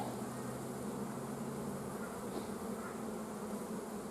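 Honey bees buzz inside a winter hive with few frames of brood and a large population, a steady dense drone filling the whole stretch at low level.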